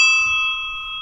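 A brand-new ding dong bicycle bell rings once, a bright metallic tone with steady overtones that rings on loud and clear, decaying slowly, with nothing else sounding.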